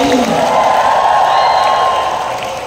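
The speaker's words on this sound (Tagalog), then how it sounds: "pumalakpak ng malakas. Sabay sigaw." A church crowd at a holiness gathering in Batangas claps loudly and cheers together in one sustained, dense burst of applause and shouting that tapers slightly at the end.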